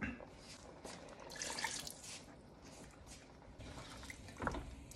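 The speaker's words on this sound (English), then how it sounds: "Let's add water." Water poured into a cooking pot of spinach soup with habanero, bell pepper, crayfish and onions, a faint splashing trickle with a few louder splashes.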